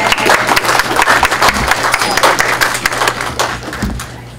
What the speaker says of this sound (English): let's give that a round of applause as well